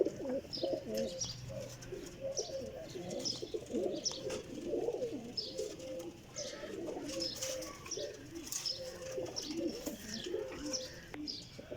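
Old-breed flying pigeons coo repeatedly nearby, soft throaty rolling calls overlapping one another in a continuous stream, with faint chirps above and no speech.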